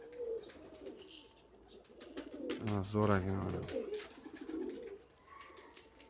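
Pigeons coo near a pigeon keeper's flock of Iranian breeds, with a burst of rhythmic, throaty cooing in the middle, overlapped by someone talking before and after.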